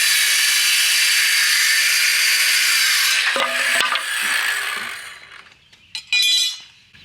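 A saw cuts through a wooden 2x4 in a steady, loud, continuous rasp for about five seconds, then fades into a few short knocks and a brief final burst as the cut finishes.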